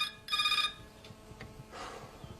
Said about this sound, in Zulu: ngiyabuya sophendula ucingo